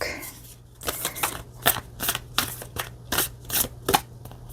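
A Wild Unknown Alchemy oracle card deck being shuffled by hand, a close run of about a dozen crisp riffling bursts in quick, fairly even rhythm, with no talking.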